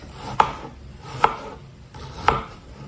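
A knife chops an onion into medium chunks on a board, three distinct, evenly spaced thuds that are close and clear, with no talking.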